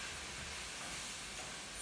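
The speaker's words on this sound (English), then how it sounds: "so we're gonna pour this in, and it has like a nice sizzle" Apples sautéing in a pan give a steady, close sizzle and hiss, with broadband frying noise holding even throughout.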